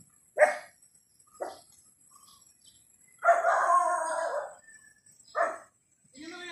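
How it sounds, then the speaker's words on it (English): A dog barks several times, short sharp barks spaced irregularly with one longer burst, fairly close in an otherwise quiet outdoor setting. "What are you barking at?"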